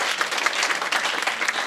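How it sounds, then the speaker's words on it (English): A seated audience at a university language policy gathering gives a professor a round of applause, a dense, steady wash of clapping from many hands with no voices over it. "Guys, can you please give Professor Khalakale a round of applause"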